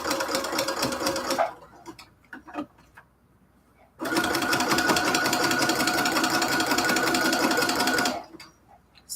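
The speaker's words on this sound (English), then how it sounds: "And we're going to keep sewing." A sewing machine stitching cathedral window quilt curtains runs loud and steady, stops briefly for a pause with a few faint clicks, then starts up again for another long continuous run.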